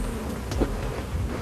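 Honey bees hum around hives during migratory beekeeping, a close, continuous buzzing with small shifts in pitch and strength, and nobody talking.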